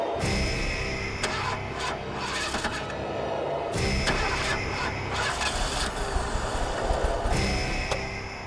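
A car engine turns over and keeps running in a tense drama scene, a steady mid-range rumble filling the whole stretch with sharp bursts and cuts layered on top.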